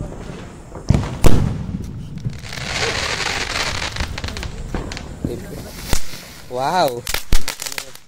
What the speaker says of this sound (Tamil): இப்போ நம்ம என்ன பண்ண போகிறோம்னா இந்த பட்டாசு சோதனை பண்ணி பார்க்க போகிறோம்.